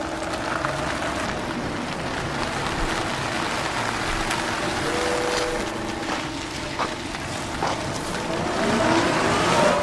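A new Opel Manta pulls away on the grounds of the Opel plant in Rüsselsheim during an anniversary open day, its engine a steady, fairly close rumble that swells toward the end.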